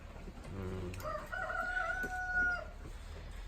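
A Kuchinsky rooster crows once, long and drawn out, fairly faint, with soft clucking of Kuchinsky hens and a low hum in the background.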